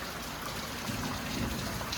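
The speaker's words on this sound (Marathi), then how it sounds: "7 वाजले तरी पण पाऊस गेला नाही" Steady rain pours down continuously, a dense hiss of drops spattering on surfaces with no voices.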